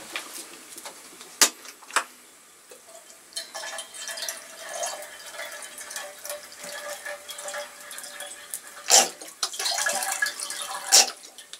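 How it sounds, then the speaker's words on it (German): Water pours and splashes into a pot set on top of a small outdoor pixel grill, with light clinks of metal and drips coming in bursts, close by and fairly quiet. "Muss ich noch ein bisschen Wasser zufügen."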